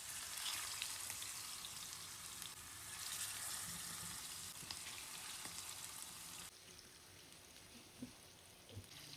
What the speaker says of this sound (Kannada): ಇದೀಗ ಫಸ್ಟ್ ಎಣ್ಣೆಯಲ್ಲಿ ಫ್ರೈ ಮಾಡಿ ತೆಗಿತೇನೆ.